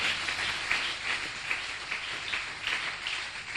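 A congregation at a Sunday morning church service claps and acclaims the Lord, a soft, steady wash of applause with a loose rhythmic pulse running through the whole stretch.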